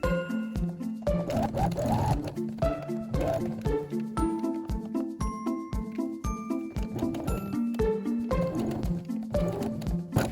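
A sewing machine stitches pieces of doll clothing, running in a steady, rapid mechanical rhythm of close needle thumps, with a brief stop partway through and no talk.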